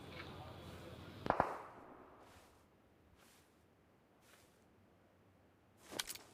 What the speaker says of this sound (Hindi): आगे गोली चल रही है